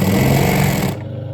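A Dürkopp 239 walking foot industrial sewing machine runs flat out with the pedal floored, a loud, fast, even mechanical rattle that abruptly drops to a quieter motor hum as it stops.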